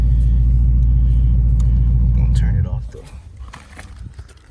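Dodge Charger engine idling with a deep, steady low rumble close by, cutting off partway through, followed by quieter ambient noise at an outdoor salvage yard.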